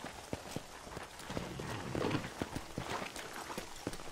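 Horse hooves in Red Dead Redemption clip-clop at a steady walking pace, sharp distinct hits over a soft background rumble, moderately close but quiet.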